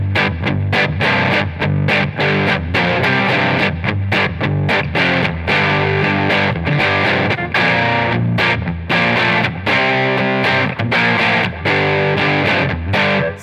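Electric guitar played through a Catalinbread Dirty Little Secret Deluxe overdrive pedal on its super bass setting, a loud, thick, gritty stream of fast chugging riffs and chords, continuous and close.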